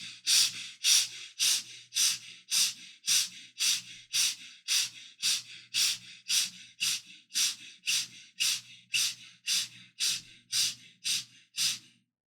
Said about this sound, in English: breathing quick and short and gentle breathing from the chest